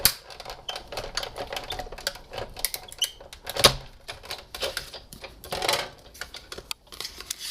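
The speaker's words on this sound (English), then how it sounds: "So now this is ready to cut, and I'm going to run it through my Big Shot." Cardstock cranked through a Big Shot die-cutting machine, a steady run of close, crisp clicking and ratcheting taps with one sharper knock midway, no talking.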